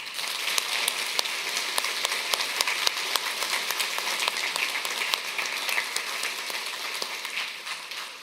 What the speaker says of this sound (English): I'd like you guys to give yourselves a round of applause